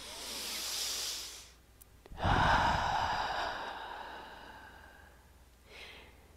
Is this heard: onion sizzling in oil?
no